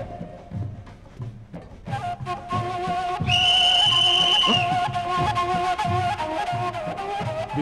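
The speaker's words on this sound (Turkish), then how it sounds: "Düdük çalmasana." A whistle blown indoors in a drama scene, one sharp, piercing blast held for over a second amid background room noise and a low hum.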